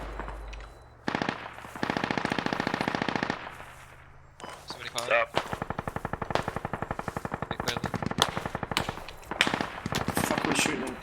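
Automatic gunfire in the military shooter game Squad: long rapid bursts of rattling shots, loud and close, broken by brief pauses, with a voice talking intermittently over the shooting.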